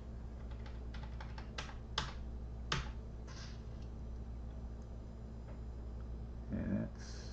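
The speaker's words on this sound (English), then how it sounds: "if it gets to where you need to fine tune it, you can use keyboard arrows." Keys on a computer keyboard tap out a quick run of clicks at the start, then a few isolated presses spaced apart, close and quiet over a steady low hum.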